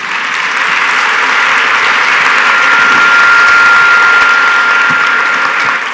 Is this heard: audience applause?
yes